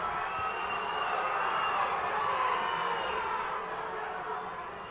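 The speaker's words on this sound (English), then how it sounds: "Final round. The crowd on their feet." A boxing arena crowd, on its feet for the final round, roars and cheers steadily with whoops rising above a dense wall of noise for the full stretch, distant and sustained.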